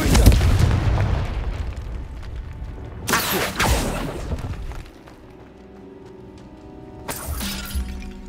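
Confringo blasting spells exploding in Hogwarts Legacy: a loud shattering boom opens, then two more sharp blasts a few seconds apart, each trailing off into a ringing, fading rumble.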